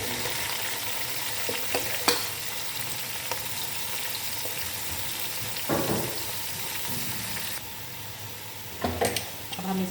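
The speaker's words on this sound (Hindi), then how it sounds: "जैसे ही ऑयल में हमारी हरी मिर्च का कलर चेंज होता है, हम इसमें शामिल कर देंगे लौकी।" Bottle gourd goes into hot oil with green chillies and cumin and is stirred, giving a steady close sizzle with occasional scraping knocks of the spoon against the pan.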